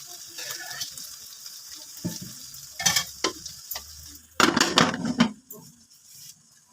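Ghee poured onto burning charcoal set inside a dish of chicken tikka gives sharp bursts of sizzling and crackling in uneven spurts, loudest near the end, with quiet gaps between.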